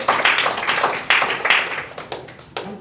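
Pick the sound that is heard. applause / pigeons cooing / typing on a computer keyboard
applause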